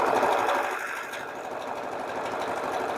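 Embroidery machine stitching a quilt block, a steady rapid whirring hum of needle strokes that runs continuously and close throughout.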